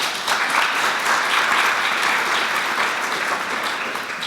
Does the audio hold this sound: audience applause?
yes